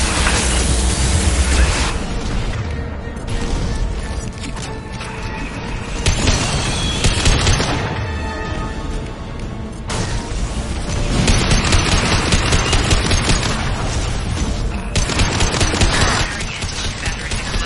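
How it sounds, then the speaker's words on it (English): Anti-ship battery guns firing in the Mass Effect 2 video game, heavy continuous barrages of booming gunfire in loud overlapping waves with mechanical clatter, sustained throughout without pauses. "Firing anti-ship battery in collector vessel."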